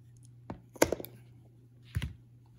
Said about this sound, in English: I take a piece of 1/4 inch heat shrink and I cut it.